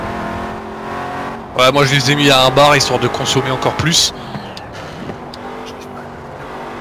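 Game car in Forza Horizon 4 with a stock 75-horsepower engine, its steady engine drone running under loud French talk, then continuing alone as the voice stops.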